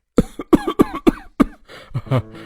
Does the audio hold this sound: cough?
yes